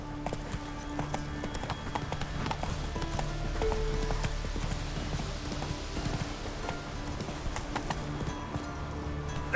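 Roach, a horse in The Witcher 3, gallops in a steady clip-clop rhythm of hooves throughout, close and fairly loud over a constant game soundscape, with no talk.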